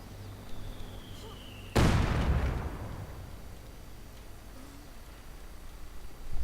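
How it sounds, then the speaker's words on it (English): A heavy mortar round bursts in a loud, close boom during a World War strategy game battle, followed by a long rumbling decay, with faint whistling before it and quieter distant rumble after. "Mortar rounds flying all across the place."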